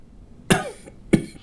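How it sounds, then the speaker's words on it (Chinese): A man in a war drama coughs several times, sharp close bursts spaced about half a second apart, the first one followed by a brief raspy trailing breath. "咳嗽轻微些"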